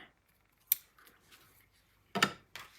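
Scissors snip through ribbon at an angle for a handmade card, giving a few sharp, close metallic cuts with quiet gaps and soft handling between them.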